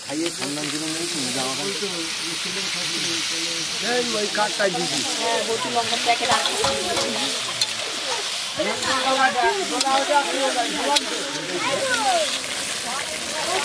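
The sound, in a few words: meat frying with spices in a pan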